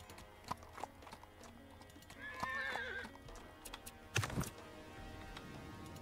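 Horses in the video game Millennia give hoof clip-clop and a clear whinny near the middle, with scattered clicks and game sounds around them. The clip is fairly quiet overall.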